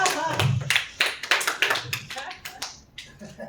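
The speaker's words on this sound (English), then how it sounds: "Not as big of an applause as I thought." A small audience claps briefly in scattered, sparse bursts, individual hand claps audible rather than a full roar, thinning out toward the end.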